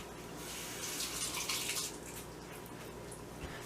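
Celery leaves are rinsed under a running kitchen tap, a steady close splash of water that swells briefly as the leaves pass through the stream, with no talk.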